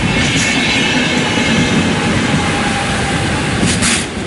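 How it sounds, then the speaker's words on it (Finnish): A train rolls past on the rails close by, a steady loud rumble and clatter of wagons filling the whole stretch before easing slightly at the end. "Aito juna."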